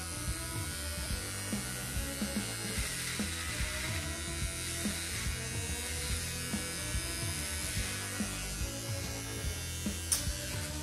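An electric razor trims a beard with a steady close buzz and rapid rhythmic mechanical clicking throughout, with no one speaking.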